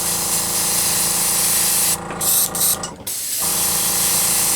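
An airbrush spraying thinned acrylic hobby paint gives a steady close hiss that cuts out briefly twice in short stops and sputters before resuming, with no talk.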